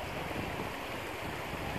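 Water from the Oderteich reservoir pours through the weir outlet of the overflow channel, a steady, dense broadband roar that stays constant and close without any voices.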